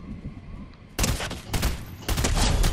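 Rapid bursts of gunfire in Fortnite, loud and close, with a quiet opening followed by sharp volleys that keep firing to the end.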